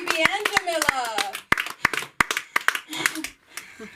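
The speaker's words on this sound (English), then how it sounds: "clap it up! For JB and Jamila" Scattered hand claps from a small audience at a comedy open mic ring out as sharp, uneven bursts, mixed with voices talking and calling out close by.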